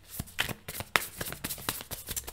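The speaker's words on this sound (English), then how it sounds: "the cards are so thick. It's kind of hard to shuffle them" A thick Muse Tarot card deck is shuffled by hand in quick, close, crisp riffling bursts with short pauses between them.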